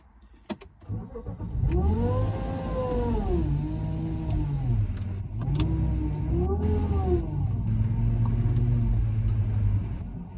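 A supercharged BMW E36 328i Touring engine revs repeatedly while driving, pitch rising and falling through several pulls, loud and close, no talking.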